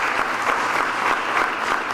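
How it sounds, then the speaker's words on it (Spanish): A brief, steady burst of audience applause at a human rights lecture given by Venezuela's attorney general, dense crowd clapping heard on its own. "Yo quiero rendirle un aplauso"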